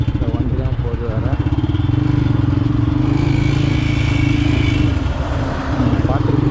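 Motorcycle cruising on a highway near Kanchipuram, its engine droning steadily and loudly throughout with wind rush and road noise close to the mic.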